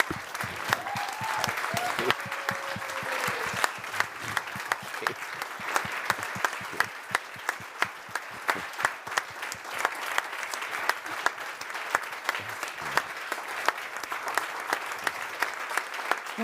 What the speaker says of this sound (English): please stand and give Richard a round of applause for his service